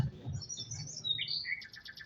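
A bird chirps and tweets in a quick series of high, thin calls, ending in a rapid run of short repeated notes, fairly quiet and heard alone.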